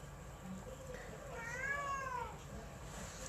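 A cat gives a single drawn-out, rising-and-falling meow near the middle, fairly clear over a quiet indoor background hum.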